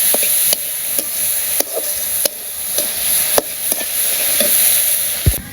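Village home cooking with food frying in a pan, a steady close sizzle broken by sharp clicks and scrapes of a utensil stirring at irregular intervals, no voices.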